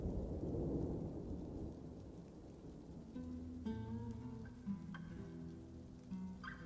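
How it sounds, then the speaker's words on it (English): Rain and thunder in a video game set at an ocean fort: a heavy rumble of thunder with steady rainfall at first, then the rain continues as game music plays over it. "I'm just listening to these lovely rain sounds."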